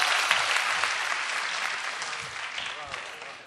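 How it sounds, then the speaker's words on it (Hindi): Dense, steady applause from the audience at a Hindi kavi sammelan and mushaira poetry recital, a continuous broadband wash of many hands that tapers only slightly over a few seconds. "जोरदार तालियां"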